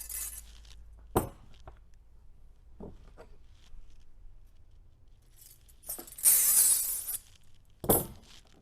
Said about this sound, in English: so I'm going to slide the washer from the other end.